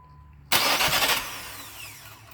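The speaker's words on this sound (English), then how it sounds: "Has a hard start. Crank it up. That's all it's gonna do. It's gonna crank, crank, crank," A 2000 Nissan Maxima with a hard-start fault cranks loudly after a quiet moment, a sudden burst of starter and engine noise that churns for about a second, then tapers off without catching into a steady idle.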